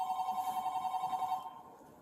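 A telephone rings in a steady repeating electronic trill for most of the two seconds, then cuts off, leaving quiet background noise with no talk.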